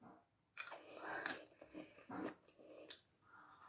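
Close, crisp crunching of homemade fried potato chips being chewed, several irregular bites heard quietly and alone.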